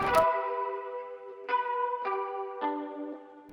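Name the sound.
guitar harmonic notes accent before chorus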